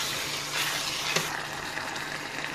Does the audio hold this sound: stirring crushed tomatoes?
yes